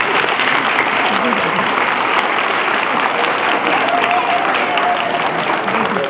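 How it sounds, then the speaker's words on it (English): Sustained applause from a school concert audience honoring parents at a second-grade music concert, a dense, steady wash of many hands clapping throughout with no pauses. "Can we give a round of applause for our parents"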